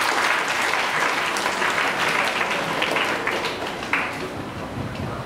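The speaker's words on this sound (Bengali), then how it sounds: "তার জন্যই তালি হোক।" An audience at a club orientation event applauds together, a dense wash of clapping that stays loud then gradually thins toward the end.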